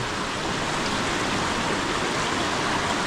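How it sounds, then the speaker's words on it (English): A steady, broadband rush of falling water, constant and enveloping, like a creek waterfall cascade close by at Carneys Creek Falls, Main Range National Park, Queensland, with no voices. "That's the next little part of the waterfall."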